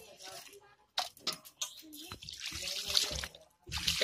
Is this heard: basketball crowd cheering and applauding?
no